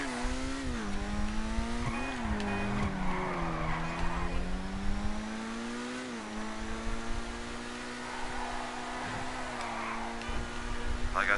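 A Grotti Turismo Classic sports car engine drones with shifting pitch as tires squeal and skid, a steady motor hum with rising and falling revs in Grand Theft Auto.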